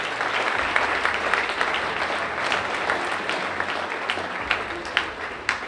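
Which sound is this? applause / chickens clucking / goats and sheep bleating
applause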